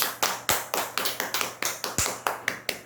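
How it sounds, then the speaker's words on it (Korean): A congregation breaks into quick, rhythmic applause during a church service, steady rapid claps repeating close and loud for the whole stretch. "영광의 박수."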